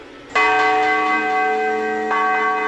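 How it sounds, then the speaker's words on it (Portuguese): Church bells in a village tower ring out with a sustained, resonant tone, a second stroke sounding about two seconds after the first and overlapping its long ringing decay. "No alto da torre, um leve badalar dos sinos,"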